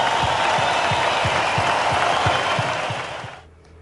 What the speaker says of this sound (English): I'd like all of you to join me in an applause